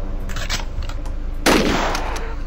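Explosive-round gunfire from the video game Nuclear Outrun: a sudden loud, dense burst of shots hits about halfway through and rings out over a steady background of game noise.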